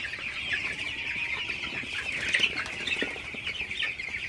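Broiler chickens crowded in a farm shed during hot weather make a dense, continuous flock clucking and chattering that holds steady throughout, with no voices.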